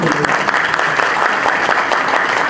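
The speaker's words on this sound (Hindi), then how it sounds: "भरपूर तालियाँ आफरीन के लिए" Sustained audience applause at an Urdu literary gathering, honoring a woman named Afreen: dense, steady clapping from a seated crowd, fairly loud and even throughout, with no speech over it.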